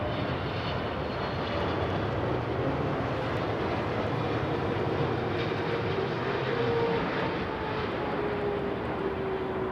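A Boeing airliner at London Heathrow Airport roars steadily in a broad, continuous engine wash, heard from a moderate distance with no voices over it.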